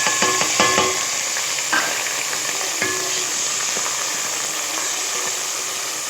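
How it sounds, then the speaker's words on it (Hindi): Minced meat (keema) frying in a pan with browned onion, a continuous hissing sizzle with a few clinks and scrapes of stirring near the start, no talk. "कीमे को फ्राई करेंगे 5 मिनट तक कीमे को फ्राई करेंगे।"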